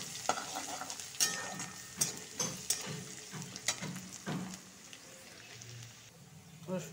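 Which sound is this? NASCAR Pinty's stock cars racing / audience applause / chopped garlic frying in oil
chopped garlic frying in oil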